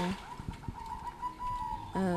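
White zebra dove (perkutut) cooing in a short rhythmic series of soft, mellow, repeated notes, close by, with someone talking over the calls.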